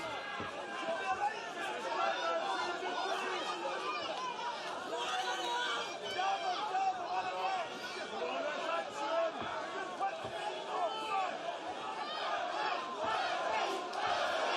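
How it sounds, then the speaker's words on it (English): Crowd at a boxing match between strongmen Thor and Eddie Hall keeps up a dense roar of chatter and shouts, with a commentator talking over it throughout. "Crowd once again trying to lift Eddie Hall."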